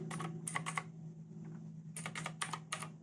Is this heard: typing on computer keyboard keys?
yes